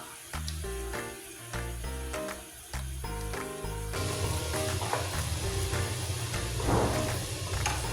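Sugar syrup with pandan leaves caramelizing in a pan for minatamis na kamote, a steady close sizzle and bubbling, with light clinks and stirring scrapes over background music.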